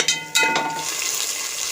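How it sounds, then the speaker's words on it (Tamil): A couple of quick metallic clinks followed by a steady sizzle of onions sautéing in a pan, close by. "வெங்காயம் வந்து இன்னும் கொஞ்சம் நேரம் வதங்கணும்"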